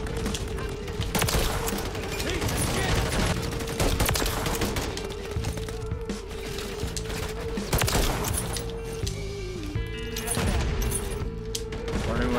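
Dense, continuous gunfire and bursts from Call of Duty: Modern Warfare 3 fill the scene, loud and close, with a sustained tone running underneath.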